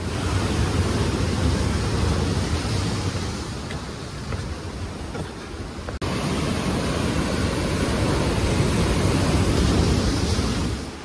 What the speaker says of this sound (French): je prends une petite douche en bas de la cascade